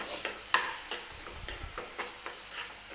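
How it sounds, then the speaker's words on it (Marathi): Onion sautéing in oil with ginger-garlic paste, a soft steady sizzle under quick, evenly spaced spatula stirs and scrapes, close and moderately quiet, without talk. "मी आलं लसणाची पेस्ट टाकून एक 3-4 मिनिटासाठी परत हे कांदा वगैरे तेलामध्ये परतून घेणार आहे"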